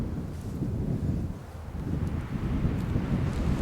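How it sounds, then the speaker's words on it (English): Wind blows across open desert scenery in Turkmenistan, a steady rumbling buffet with gusts rising and falling, loud and close to the microphone, with no talk. "At least there's a bit of a wind."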